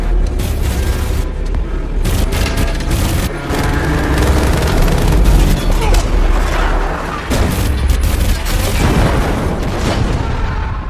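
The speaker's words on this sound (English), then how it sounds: "Just keep shooting." Gunfire in an action horror sci-fi movie scene: loud, dense bursts of shots and booming blasts fill the whole stretch, with shouted voices mixed in among the barrage.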